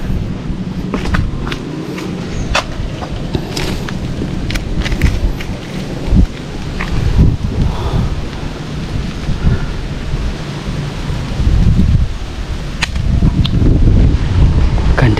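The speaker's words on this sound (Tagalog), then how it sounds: "Sarap ng simoy ng hangin." Outdoor breeze blowing strongly at a hillside spot, heard as a continuous loud rushing roar with gusty swells and occasional sharp pops, with no talk.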